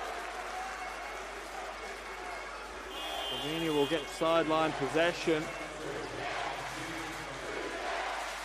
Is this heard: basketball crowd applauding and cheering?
yes